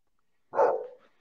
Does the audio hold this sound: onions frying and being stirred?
no